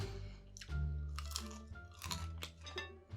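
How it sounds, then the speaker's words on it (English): Someone bites into the crisp tail of a homemade bungeoppang, fish-shaped Korean pastry, giving several loud, close crunches followed by chewing. "And did you hear that crunch of the tail?"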